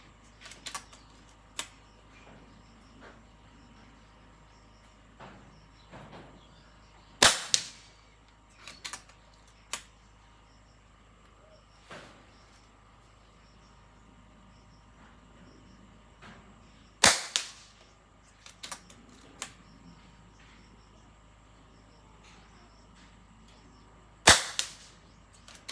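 An FX DRS Tactical 500mm airgun fires a few sharp, loud test shots spaced several seconds apart, each a crisp crack followed by a short clatter, with small handling clicks and quiet room noise between.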